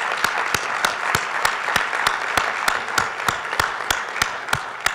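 Audience applause at an event about supporting transfer students, honoring the conference organizers: steady, dense clapping from a crowd with regular sharper claps standing out, sustained throughout at moderate loudness with no talk.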